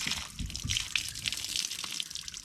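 Pink antifreeze draining from a toy hauler's tank valve, a steady faint splashing and trickling of liquid with no voices.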